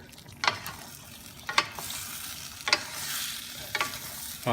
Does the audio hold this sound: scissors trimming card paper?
no